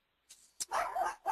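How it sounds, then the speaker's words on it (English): Puppies let out a few quick, high barks and yips close by, in short bursts with brief gaps between them. "if you hear a couple of puppies barking in the background"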